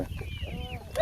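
Chickens clucking close by for about a second, short throaty calls with a voice talking over them.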